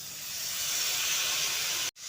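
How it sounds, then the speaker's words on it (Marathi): Washed dill and sorrel greens drop into hot tempering and set off a loud, steady sizzling hiss that holds for about two seconds before cutting off abruptly. "त्याच्यामध्ये ही धुवून घेतलेली भाजी आपण घालून घेऊया"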